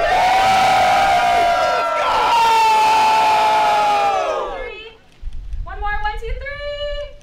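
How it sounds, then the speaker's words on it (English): A group of people cheer and shout loudly and close by for about five seconds. The cheering fades, and then a single voice speaks. "I think everyone cheering! Let's go!"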